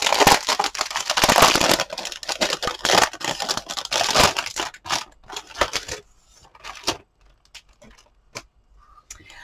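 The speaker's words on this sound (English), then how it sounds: "let's go ahead and open it up and take a look inside" A chipboard memory journal booklet from a mini album kit being opened, with dense rustling and crinkling of handled paper at first, then thinning to scattered soft ticks and taps close by.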